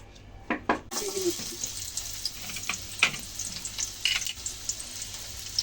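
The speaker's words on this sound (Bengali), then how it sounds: "বেরেস্তা করা হচ্ছে" Onions frying in oil in a kadai for beresta, a steady close sizzle with occasional clinks and scrapes of stirring, starting after a few light taps.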